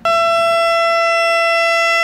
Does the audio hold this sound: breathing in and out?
no